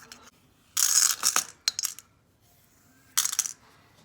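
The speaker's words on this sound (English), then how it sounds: "you're going to push all those beads into that bowl" Waist beads are pushed off a string into a bowl, giving two bright clattering cascades of small beads with a few lighter clicks between them, close up and with no talking.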